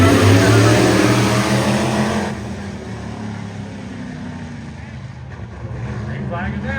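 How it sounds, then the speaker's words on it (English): Dirt-modified race cars on dirt-specific tires race on the pavement at Kern Raceway, their engines a loud, dense roar that drops to a steadier, slightly quieter drone partway through. "We go dirt-modified racing."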